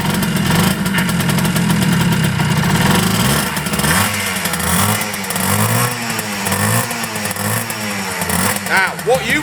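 A restored Yamaha FS1-E 50cc two-stroke motorcycle is kicked into life and runs, its buzzy engine rising and falling through uneven revs and a fluttering idle, close and loud, with someone talking over it at times.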